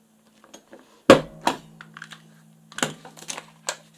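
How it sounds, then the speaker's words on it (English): A stapler is pressed down through paper onto a scrap of cardboard while binding a homemade journal. One sharp, close crunching clack lands near the start, followed by a few lighter taps and clicks in a quiet room. "We're going to grab our stapler, place it on the line where the fold is, and push down."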